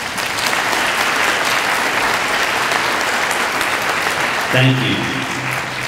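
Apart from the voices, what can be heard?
applause for scholarship donors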